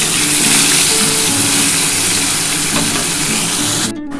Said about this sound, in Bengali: বন্ধুরা বাকি যে মাছটা রয়েছে এটা আমি ভেজে নিচ্ছি।